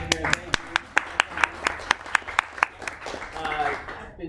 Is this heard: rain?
no